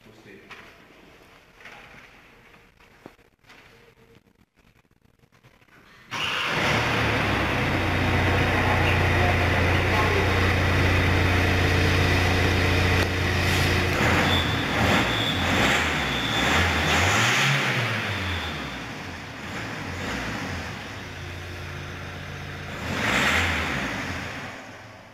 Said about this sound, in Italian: L'unica cosa rimasta è il sound del nostro motore